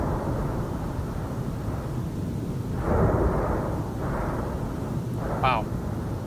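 Mount Etna in Sicily erupts at night with deep rumbling explosions over a constant roar. A few heavier booms stand out, with no talking.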